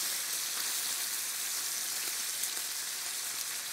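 Pork sizzling and frying in a pan, a soft, steady crackle and hiss throughout, fairly quiet with no voices.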